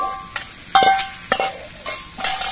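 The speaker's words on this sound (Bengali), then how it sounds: "এবার এর মধ্যে আমি ভেজে রাখা আলুগুলোকে দিয়ে দিচ্ছি।" Fried potatoes are tipped into a pan of rice being cooked for Bengali murighonto, followed by stirring that scrapes and clinks in a few bursts over a light, steady sizzle.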